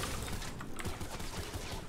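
Rapid bursts of gunfire from a sentry turret cutting down husks in Fortnite Save the World, a dense, continuous crackle of shots with layered impacts running through the whole stretch.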